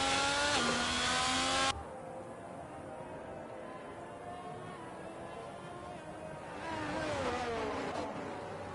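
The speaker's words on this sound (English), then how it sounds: "my eardrums are going to pop if I keep hearing a revved engine" A race car in a sim racing game at Bahrain revs and accelerates, its engine whine climbing and dropping, loud at the start, dipping, then rising again near the end, with a steady background roar throughout.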